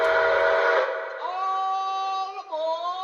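Polar Express model train whistle sounds close and clear, a sustained multi-tone steam-style wail that holds steady, then bends and dips briefly before resuming, over a short burst of low rumble at the start.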